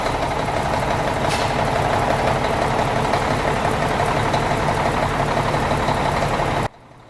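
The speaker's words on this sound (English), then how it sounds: "mention that ticking you're hearing is the exhaust leak at the back of the manifold" A Cummins ISX diesel engine runs steadily at idle with a ticking exhaust manifold leak at the rear of the manifold, giving a loud, continuous low rumble and a fast rhythmic knock that cuts off abruptly near the end.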